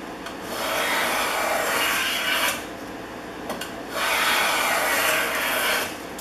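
A Stanley No. 130 double end block plane takes shavings from wood in an old workshop, making two long rasping strokes, close and steady, with a short pause between them.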